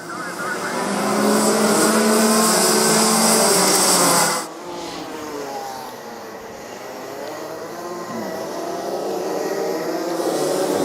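Rotax Max racing karts howling around a wet, slippery track during a national championship final, a loud sustained engine drone that briefly drops off mid-pass, then builds again as more karts approach.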